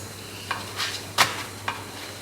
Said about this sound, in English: Just cooking some tacos for dinner